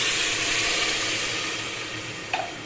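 Water poured into a pan of sugar, making a loud, hissing sizzle that slowly fades, with a small knock near the end and no talking.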